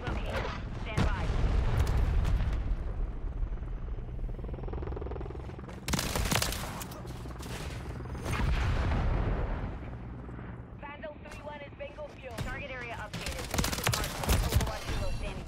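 Bursts of automatic gunfire and heavy explosions fill a Call of Duty Modern Warfare III match played with an FJX Horus rifle. The sound is loud and layered, with quieter stretches between the volleys and someone talking over parts of it.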